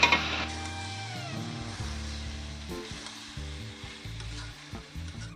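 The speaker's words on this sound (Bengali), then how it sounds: "এখন ভেজে রাখা আলু আর এঁচড়টা আমি দিয়ে দেবো। আর একটু ভালো করে কষিয়ে নেব।" Fried potatoes and jackfruit are stirred into a spice paste in a hot pan, a steady close sizzle under repeated scraping of the spoon against the pan, with no talking.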